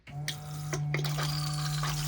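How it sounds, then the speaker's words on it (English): A motorhome cassette toilet's flush pump runs steadily after its blue button is pressed, a close, constant hum with flushing fluid swishing and trickling through the bowl over a couple of seconds. "When I press on the blue button,"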